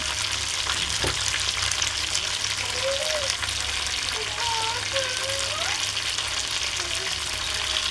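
Chicken sizzles in oil in a frying pan, a continuous dense crackling hiss with faint stirring scrapes and a sharp clink early on.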